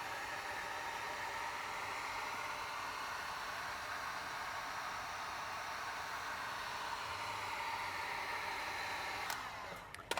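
A heat gun blows at high heat on the wrap of a Tesla Cybertruck door sill, a steady, even airy whoosh held for several seconds, close and unbroken, ending with a brief click.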